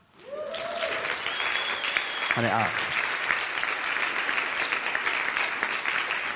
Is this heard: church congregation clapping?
yes